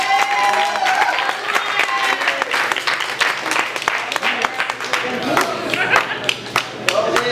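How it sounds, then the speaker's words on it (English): Applause for a poet at a poetry reading, a small audience clapping with distinct individual hand claps over a murmur of voices and a few cheers, steady for several seconds. "give a nice round of applause for Eunice"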